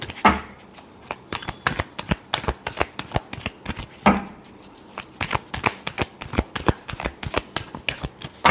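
Tarot cards are shuffled in a rapid, steady riffle of crisp slaps and flutters, close and fairly loud, with two heavier knocks as the deck is squared, no voice over it.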